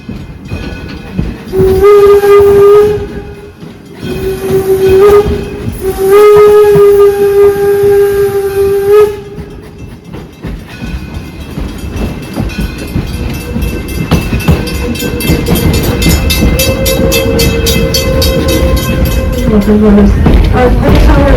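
Steam locomotive on the heritage railway at Greenfield Village, Detroit, Michigan, sounds two long, loud whistle blasts, then chuffs and rumbles steadily along as the train gets moving, with a final short whistle near the end.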